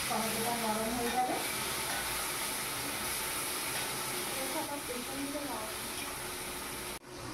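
Vegetarian vegetable curry with tomato and salt simmers and sizzles steadily in a pan over a gas flame, a constant close frying hiss with kitchen handling noises throughout.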